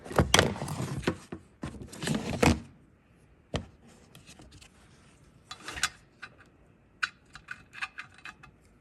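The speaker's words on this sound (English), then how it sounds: "We're going to use the OMEX valve seat cutter." An OMEX valve seat cutter working the valve seats of a Massey Ferguson 35 cylinder head with a Continental motor. Bursts of scraping and grinding come first, then sparse metallic clicks and taps, close and fairly loud.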